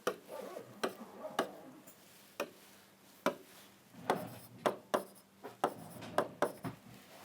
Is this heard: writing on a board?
yes